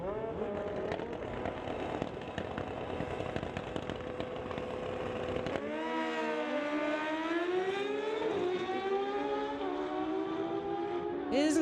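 A 2017 Suzuki GSX-R and a 2003 Honda CBR race side by side down a drag strip at about 174 mph, engines screaming loudly with rising, shifting pitch as they pass, a commentator talking over the noise.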